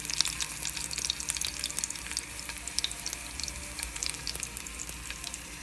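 Chopped onion and a tomato sauce sizzle hard in a clay pot while lentils are being cooked, giving a steady, dense crackle that is close and continuous with no talking.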